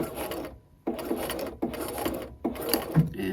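A domestic sewing machine back-stitches bias tape in short bursts, three or four quick whirring runs separated by brief pauses, close and fairly loud.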